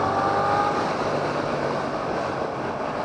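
Sustained exhaust drone from a Suzuki GSX-8S fitted with a short muffler, riding at a constant pace; a close, even engine tone runs throughout without speech.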